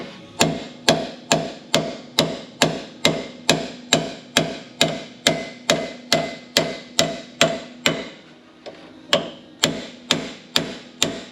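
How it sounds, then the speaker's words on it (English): A hammer drives a brass bushing out of a semi truck's inboard drum brake assembly with a bushing driver, struck in a steady run of loud, sharp metallic blows, pausing briefly before several more strikes. "now I got to pound this bushing out. It's a brass bushing inside"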